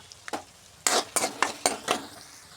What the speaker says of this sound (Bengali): মশলা লাল লাল করে ভাজিয়ে নেব বন্ধুরা।